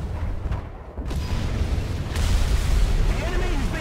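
Bomb blast in War Thunder gameplay: a dense low rumble that swells and holds, with a sharper burst near the middle, loud and boomy beneath the ongoing battle din.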